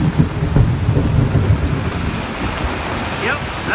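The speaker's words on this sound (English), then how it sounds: "that was thunder and lightning" Rolling thunder from a Kentucky storm rumbles low and loud through the first half, then eases into a softer wash of rain-like noise with a few faint higher chirps toward the end.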